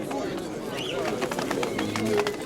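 Pigeons, including red-sided birds, coo softly amid a busy flock at a market fair in Dnipro, with fluttering and chatter; someone speaks over the birds throughout.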